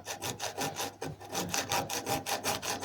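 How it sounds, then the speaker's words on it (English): A hacksaw blade rasps back and forth through a sailboat's keel shaft in quick, even strokes, about six per second, close and alone. "My mission: to try and cut through that shaft there with this hacksaw blade."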